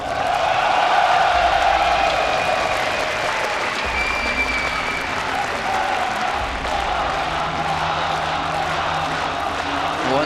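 A large crowd at a StarCraft II esports playoff at IEM Katowice applauds and cheers steadily, a dense, continuous roar of clapping that stays loud and even throughout with little variation.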